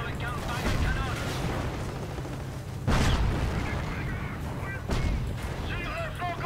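Heavy booming cannon blasts from the video game Tales of Valor go off about every two seconds amid rumbling battle noise, loud and close, with a voice speaking underneath.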